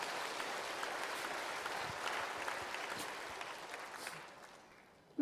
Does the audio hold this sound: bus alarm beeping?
no